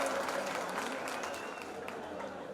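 Steady crowd clapping from a mushaira audience in Malegaon, a dense continuous wash of hands filling the space, with faint voices mixed underneath.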